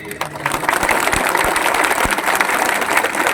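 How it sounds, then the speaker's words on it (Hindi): A crowd at a public gathering in Sabroom, Tripura, claps loudly and continuously for several seconds, a dense roar of hands with a few sharper thumps near the start. "सब इनको भी एक बड़ा ताली दीजिए।"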